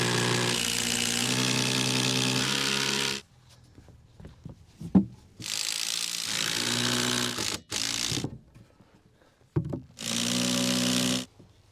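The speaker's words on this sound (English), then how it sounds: "That's our last overhang getting screwed in" A power driver spins screws into a wooden roof overhang on an off-grid build, with three long loud whirring bursts and short clicks and knocks between them, heard close.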